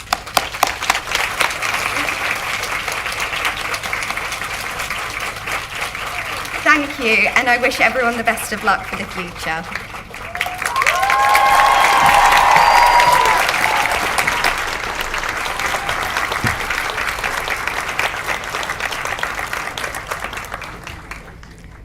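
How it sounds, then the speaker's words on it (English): A graduation audience for the School of Nursing and Midwifery at the University of Suffolk applauds graduates with sustained crowd clapping, running under a speaker's closing thanks and swelling midway. "And join me in a round of applause."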